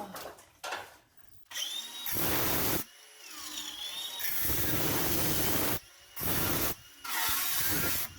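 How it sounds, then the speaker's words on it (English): An angle grinder slices through a metal downpipe in repeated loud bursts of harsh, high-pitched cutting noise, separated by short pauses as the tool stops and starts again. "Angle grinder."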